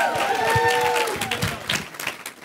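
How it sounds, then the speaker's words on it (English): An audience applauds loudly at a church gathering, dense clapping with a few whoops and cheers mixed in, fading slightly toward the end. "Let's give him another round of applause."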